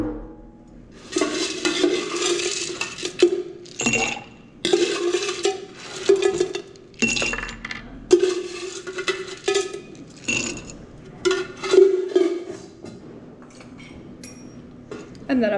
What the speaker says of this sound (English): I'm going to fill it up with ice